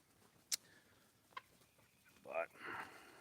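Polish chickens and roosters on a farm in the Deep South, a few faint distant clucks and a short squawk, ending in a brief louder crowing-like call over quiet background.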